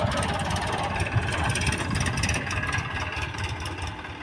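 A tractor loader's diesel engine idles steadily at medium distance while loading manure on a farm field, a constant low chugging rumble with no talk.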